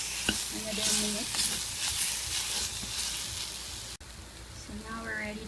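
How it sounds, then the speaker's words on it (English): Kimchi and pepper powder stirred and fried in a pot for sundubu jjigae, a steady close sizzle with scraping stir strokes throughout, a brief cut near the end, and a voice speaking briefly over it. "you can now add the kimchi. Then stir it again for another minute."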